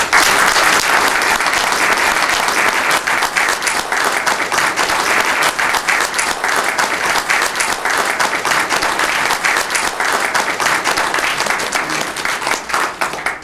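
An indoor audience at a Czech event claps continuously, with dense, even applause that stays loud for the whole stretch and fades slightly at the end.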